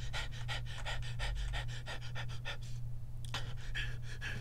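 A dog pants rapidly in a sci-fi alien shooter video game, in quick rhythmic breaths that pause briefly before resuming over a low background hum.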